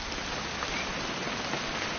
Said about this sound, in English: It's going to rain the whole weekend